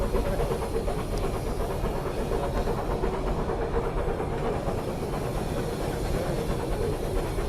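An Orient Express steam locomotive pulls away with continuous heavy rumbling, hissing steam and rapid chuffing, loud and steady throughout with no talking.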